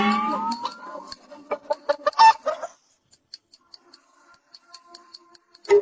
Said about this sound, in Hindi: यह मुर्गी तो कूद भी रही है।